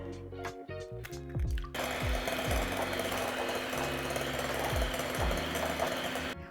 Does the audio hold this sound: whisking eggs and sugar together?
yes